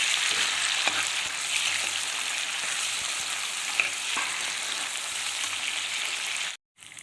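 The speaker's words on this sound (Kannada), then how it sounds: "ಚೆನ್ನಾಗಿ ಇದನ್ನು ಸ್ವಲ್ಪ ಬಾಡಿಸ್ಕೊಳ್ತೀನಿ." Onion and tomato sauté in a pan for a greens and moong dal curry. A steady, close frying sizzle runs evenly with small pops, then cuts off abruptly near the end.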